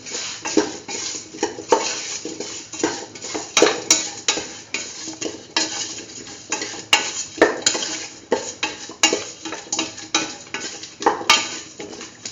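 Curried beetroot and mung bean stew stirred in a pot: a close, rhythmic scraping of a spoon against the pot, with repeated clinks and a faint simmer beneath, and no voices.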